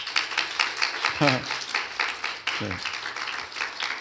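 A congregation claps together during a Sunday worship service, a steady patter of many hands running through the whole stretch, with a single short spoken word rising over it.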